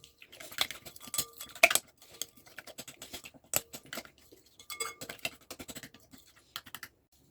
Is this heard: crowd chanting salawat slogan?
no